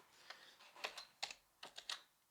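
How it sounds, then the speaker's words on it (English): Someone types briefly on a computer keyboard, giving a few quick, soft keystrokes in small clusters, close by and quiet with no talk. "we're just going to type in sales rep."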